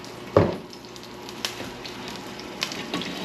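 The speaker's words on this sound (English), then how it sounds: "We're getting that sizzle now. I'm getting that olive oil coated all across the bottom of that pan." Olive oil sizzles in a frying pan with minced garlic, a steady crackling hiss that opens with a sharp burst and continues under a few small stirring and pan sounds.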